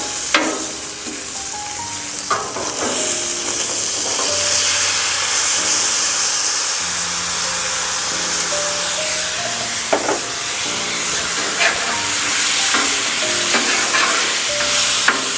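Bacon frying at high heat on a Blackstone flat top griddle, a loud continuous hissing sizzle with occasional sharp pops and scraping, plus faint tonal hum in the background.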